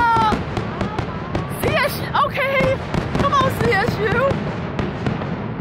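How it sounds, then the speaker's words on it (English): Fireworks burst at a winter festival with repeated bangs and crackles spread through the stretch, mixed with excited voices and crowd chatter nearby. "Fireworks already?"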